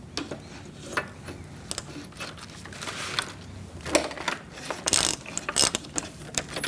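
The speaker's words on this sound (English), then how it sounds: "Using a 27 millimeter long socket, we're going to transfer this over to the new condenser." A ratchet with a 27 mm long socket loosens an A/C line on the condenser of a 2008-2014 Mercedes-Benz, giving close, rapid bursts of mechanical clicking with short pauses between strokes and no talk.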